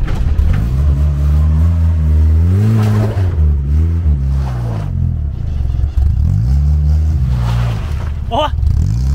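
Chevrolet Caravan engine loud and close, revving up and down in repeated rising sweeps with a rough mechanical rattle, and people talking over it.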